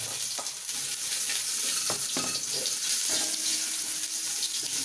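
Biya goby fish frying in hot oil, a continuous dense sizzle and crackle close up, with occasional stirring clinks and no voices.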